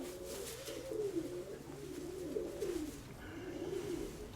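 A pigeon, a grey yearling cock kept for flying, coos in repeated rolling phrases close by, steady and moderately loud with faint background noise and no talk.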